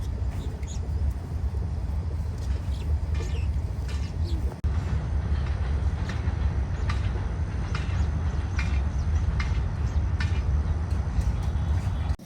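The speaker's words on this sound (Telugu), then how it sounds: "ఇదిగో ఇంకొక బండి అయితే వెళ్తుంది. ట్రిపుల్ లోకోమోటివ్లు అయితే పుల్ చేస్తున్నాయి చూసారా." A freight train hauled by three locomotives passes with a continuous heavy low rumble, broken by scattered clicks and rattles across the whole stretch.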